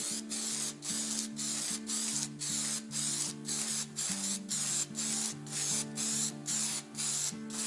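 Spray can of contact cement hissing onto a foam cowl in repeated bursts of roughly half a second to a second, close and steady, with short gaps between each pass.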